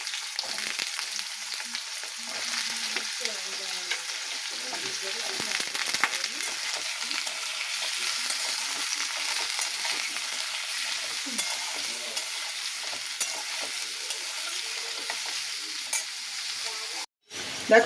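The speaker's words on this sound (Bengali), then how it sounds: "আলুটা ভাজা ভাজা হলে মশলাগুলো দেবো দেখো" Potatoes fry in hot oil with whole white cumin, giving a steady, dense sizzle that stays close and even throughout, with faint stirring scrapes and no talk.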